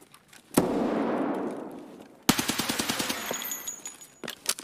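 Pistol fire in the online shooter Escape From Tarkov: a long, loud crack with a decaying tail, then a rapid run of about a dozen sharp shots and a few more scattered reports.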